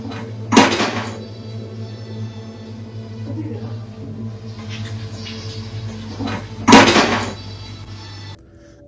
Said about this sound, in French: Un ustensile de vaisselle qui glisse n'est bien sûr pas si extraordinaire